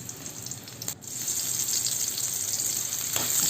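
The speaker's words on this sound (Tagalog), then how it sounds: "Katulad ng ating palaging ginagawa, ang paggigisa." Okra sautéing in a pan gives a continuous dense hiss and sizzle, loud and close throughout, with one brief dip near the start and no voices.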